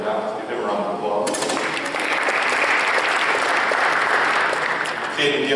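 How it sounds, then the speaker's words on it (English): Audience applause at a football awards ceremony swells into sustained clapping from a crowd after a spoken announcement, with a voice audible at the start and the end. "Let's give him a round of applause."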